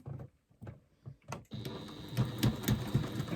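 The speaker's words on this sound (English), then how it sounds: "I'm going to stitch down that side using a 3/8 of an inch seam allowance" Sewing machine running a 3/8 inch (10 mm) seam down one side, short stop-start bursts of stitching at first, then a steadier, louder run of rhythmic needle chatter close by.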